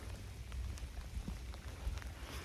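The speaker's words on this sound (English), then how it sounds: "It's raining" Rain falls outdoors on a cold day in public-land woods during a late-season bow hunt, a steady soft hiss with scattered faint drop ticks and light wind, with no talking.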